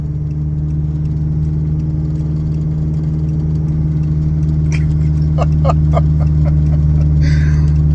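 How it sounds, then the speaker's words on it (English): A misfiring car engine idles steadily with a low, uneven hum, and a few sharp rattling ticks break through near the end. "So I got a misfire, blows a bunch of smoke just like before."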